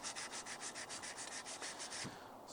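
Sandpaper scrubs the handle of a badly rusted cast iron pan, a close, steady run of about a dozen rhythmic rasping strokes that fades near the end.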